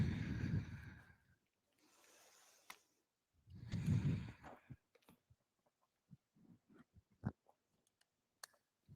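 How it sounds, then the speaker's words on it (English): Slow, audible breathing during a relaxation exercise, a long exhale followed by a quieter inhale and another full breath, then faint scattered clicks and rustles in a quiet room. "Just listen to the noise that your breath makes. The sound of your inhale, followed by the sound of your exhale."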